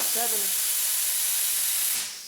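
Steady loud hiss of an air compressor running in a screen printing shop beside an automatic press, starting with a short voice and then filling the clip until it eases off at the end.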